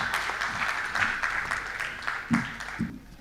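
An audience at a mushaira poetry evening claps to welcome a poet, the applause uneven and patchy with a few louder bursts before it thins out.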